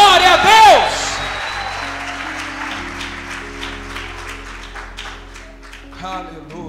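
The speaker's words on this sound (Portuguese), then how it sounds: "dá um aplauso e abra a boca e dê um grito de glória" A church congregation shouts out loud cries of glory, then breaks into applause that fades gradually into a softer patter of clapping and murmur.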